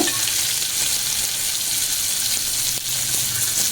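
Fish frying in a pan as the pieces are turned over, a steady loud sizzle throughout with faint scraping, close up.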